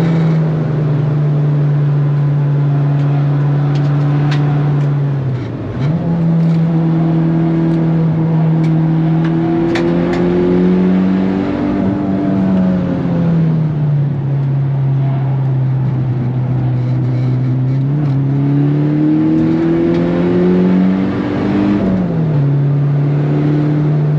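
Onboard a 400 HP Mitsubishi Lancer EVO X at the Nürburgring on winter tires, the engine drones loudly and continuously, pitch rising and falling through gear changes and corners.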